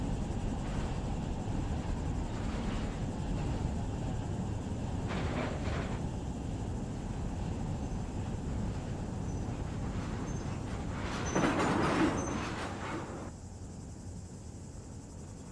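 Freight train locomotives in Run 8 Train Simulator rumble steadily as they come to a stop, with a low, constant drone that swells briefly near the end, then settles quieter.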